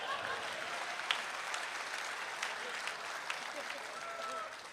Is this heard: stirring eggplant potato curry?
no